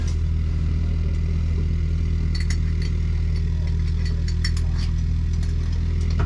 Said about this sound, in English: that motor you heard running's a pre-oiler, so we basically run oil through the engine on a motor before we start